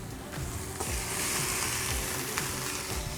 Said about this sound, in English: So back in the pan, we're just gonna warm these veggies up